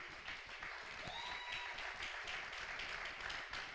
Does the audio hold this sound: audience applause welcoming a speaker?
yes